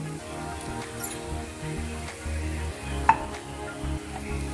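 Coriander, fenugreek and cumin seeds fry in a pan for a Gongura sesame chutney, giving a steady soft sizzle with light crackles and one sharp pop, close and moderately quiet, with no talking.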